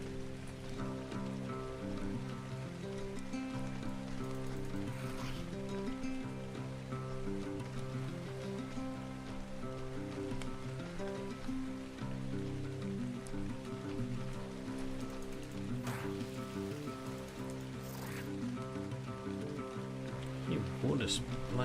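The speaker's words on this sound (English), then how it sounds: "Water splashing." Water splashes and patters steadily in the video game Ark: Survival Ascended, set on the Ragnarok map. It is a faint, continuous wash with a few sharper splashes, heard over a soft sustained musical drone.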